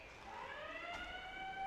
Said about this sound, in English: the buzzer sounds to signal the end of the first period